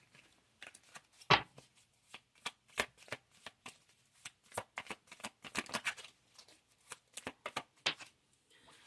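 Tarot cards being shuffled close up, a quick run of soft riffling flicks and slaps in irregular bursts, quiet and alone.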